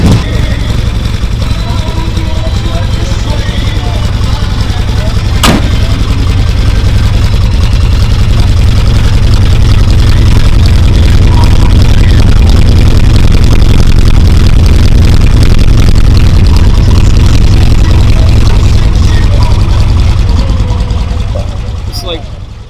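A 1971 Austin Mini Cooper runs steadily through a loud exhaust, a close, constant droning idle for the whole stretch with one sharp click partway through.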